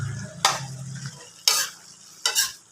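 Pork strips sautéed with onion, garlic and tomato in a pan, a low steady sizzle broken by three sharp bursts of stirring scrapes, close and alone.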